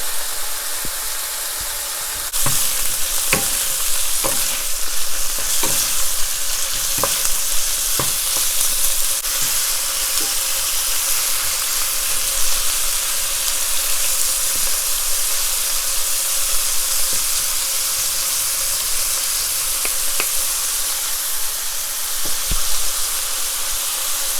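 Kimchi and pork frying together in a hot pan, giving a steady loud sizzle that runs throughout, broken by repeated stirring scrapes and clacks in the first half. Kimchi fried noodles are being cooked.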